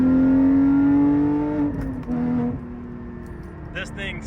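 A supercar with an aftermarket iPE exhaust, driven on winter roads, pulls hard through second and into third gear: a loud rising engine roar, a brief dip at each shift, then climbing again, heard close from inside.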